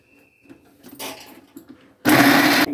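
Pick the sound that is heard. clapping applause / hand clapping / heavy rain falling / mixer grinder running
mixer grinder running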